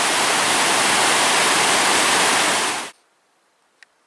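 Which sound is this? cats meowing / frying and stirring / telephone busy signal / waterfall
waterfall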